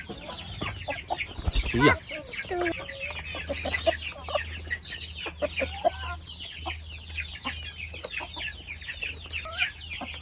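European and free-range village hens cluck and squawk busily throughout, with a loud rooster-like outburst early on and a steady low hum underneath; a brief voice speaks.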